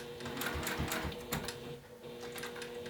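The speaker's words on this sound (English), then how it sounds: "Now I'm going to sew this binding strip till I'm about 1/4 inch away from my first corner." A sewing machine stitching a binding strip onto a bi-fold wallet, steady rapid mechanical clatter of the needle, close and moderately loud with no talk.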